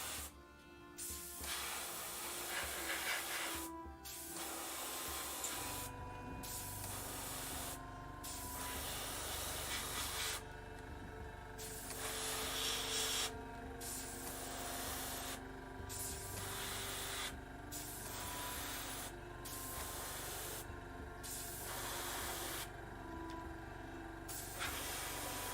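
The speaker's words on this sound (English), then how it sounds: "Man, the airbrush makes this so easy." An airbrush sprays red paint onto Khorne Blood Crusher models in bursts of soft, steady hiss, with brief pauses between passes, close and fairly quiet, with no talk.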